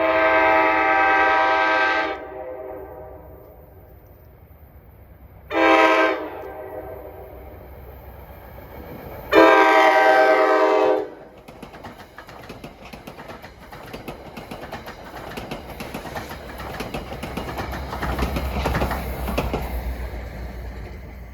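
NJ Transit train 1174 bound for Hoboken sounds three loud horn blasts, a long one, a short one and another long one, then rumbles past close by with steady rolling rail noise.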